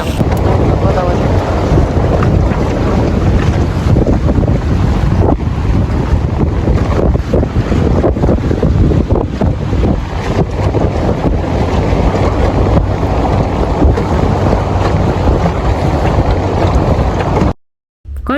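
Boat ride out to a beach in the Dominican Republic, with steady loud wind buffeting the microphone over engine rumble and water noise for the whole stretch, cutting out briefly near the end.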